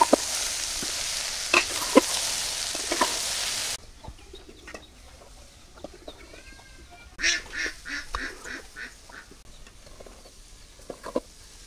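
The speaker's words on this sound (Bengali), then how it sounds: "ঢেঁড়স ভাজি হয়ে গেছে, এখন আমি ভাজিতে উঠে নিই।" Okra fries with turmeric and salt, a hissing sizzle with a few sharp taps for the first few seconds, then it drops away to a quieter background broken by bursts of nearby bird-like calls.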